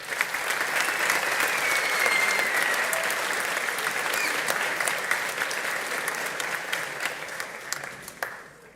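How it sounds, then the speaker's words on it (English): Sustained audience applause fills a graduation ceremony at a technical academy, a dense steady clapping from a large crowd that holds for several seconds before thinning slightly toward the end. "you deserve a round of applause just for that"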